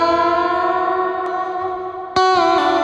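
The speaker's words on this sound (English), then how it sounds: "So let's put the reverb on." Electric guitar played through a gold plate reverb with a long 2.7-second decay, sustained ringing notes blooming into a lush, dreamy tail, then a fresh strummed chord hits sharply near the end and washes out.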